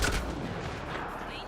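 A gunshot from a firearm in the video game Mass Effect Andromeda, a sharp, loud blast at the start that trails off into a rumbling echo, mixed with game background noise.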